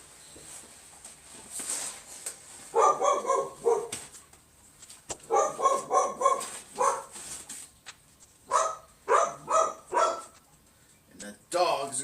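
A dog barks in repeated bursts of several sharp yips and woofs, fairly close and loud, with short pauses between volleys and a person's voice briefly in the background.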